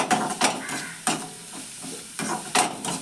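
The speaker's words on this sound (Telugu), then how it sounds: "వెల్లిపాయలు పచ్చిమిరకాయలు తాలింపయ్యాక వేసేసుకుని ఆయిల్లో పెడదాం" Garlic and green chillies sizzle in hot oil as a spoon scrapes and stirs the pan, with a steady frying hiss broken by several sharp, close stirring strokes.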